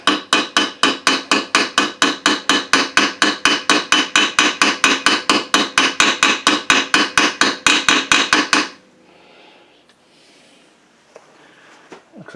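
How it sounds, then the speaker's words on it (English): Rapid, steady metallic taps of a hammer seating a Woodruff key on a Kohler Command Pro V-twin engine, dozens of even strikes in a quick rhythm, then they stop and near-silence follows. "if you do have to tap it in with a hammer or anything, just be gentle, hit it straight"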